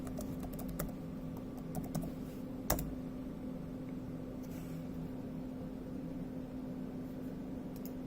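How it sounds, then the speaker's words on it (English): Light, quick keystrokes on a computer keyboard as a password is typed, a short run of soft clicks close by over a faint steady hum, with no talking. "And key in the password."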